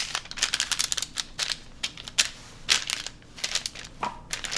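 Portions inside a folded bag are squished flat by hand in a kitchen, giving a run of close, irregular crinkly presses and crunches with short pauses between them.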